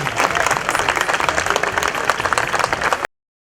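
A church congregation breaks into loud applause to welcome Jesus the King at a Feast of Christ the King Mass, a thick, sustained wash of clapping from many people that cuts off abruptly into silence.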